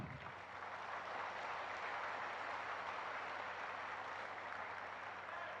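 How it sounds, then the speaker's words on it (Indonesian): Steady, dense applause from an audience greeting Anies Baswedan at a Partai Ummat event, sustained and even throughout with no talk over it. "sekali lagi beri aplaus"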